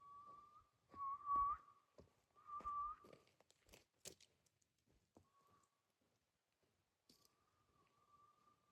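Person whistling to call a dog at a forest campsite, a few short sharp whistle bursts near and clear, then a longer faint whistle after scattered clicks and quiet pauses.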